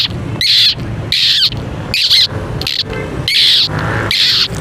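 A person mimics a sparrow's call with six sharp, high chirping bursts in a steady rhythm, close and loud, with short pauses between them.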